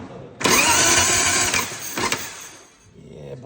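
A Harley-Davidson Sportster motorcycle engine cranks on its electric starter in a loud, whirring burst of about two seconds with a brief stutter, then winds down, close-up, before a faint quieter tail.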